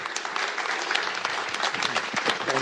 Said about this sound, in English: I believe all of our panelists deserve a round of applause.